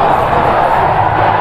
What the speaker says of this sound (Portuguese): Aplaudindo ali o time que está descendo, os vestiários.